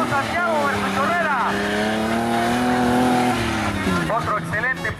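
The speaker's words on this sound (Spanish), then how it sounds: "¡Sale los carros! ¡Corro Santiago versus Herrera!" Racing cars launching side by side from the start line of a drag-style race, engines revving up in rising then falling pitch sweeps with a tire squeal, loud throughout and heard under excited commentary.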